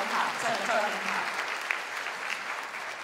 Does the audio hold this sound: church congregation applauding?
yes